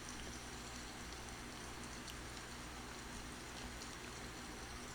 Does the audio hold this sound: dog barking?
no